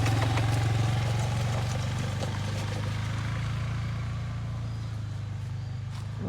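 GY6 ATV engine running steadily nearby with a buzzing, humming drone, its tone sagging and wavering slightly midway, alone with no voices.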